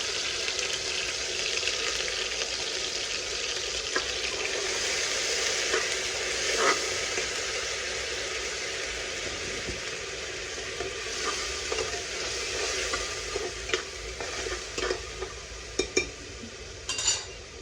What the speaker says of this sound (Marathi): म्हणून मी आधी फ्राय करून घेते टमाटे टमॅटो चांगला फ्राय झाला